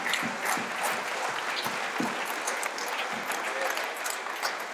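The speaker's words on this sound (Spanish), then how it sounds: "Que se escuche más fuerte ese aplauso para ella" A crowd at a horseback cavalcade in Chiapas applauds its parade queen with dense, continuous clapping that stays loud and even throughout.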